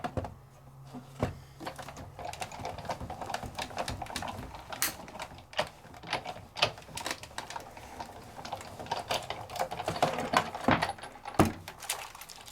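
A die-cutting machine rattling from an Allen wrench taped to its base, giving a busy clatter of rapid irregular clicks and taps throughout, fairly close and without talk.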